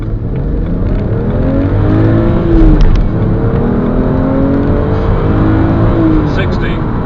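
A 2012 BMW 330i SE coupe engine revs hard and climbs in pitch through the gears during a 0 to 60 run, loud and close, with brief dips between shifts as it accelerates.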